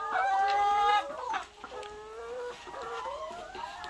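Laying hens on a farm cluck and squawk close by, with one drawn-out, crow-like call at the start followed by a run of shorter, wavering clucks from the flock.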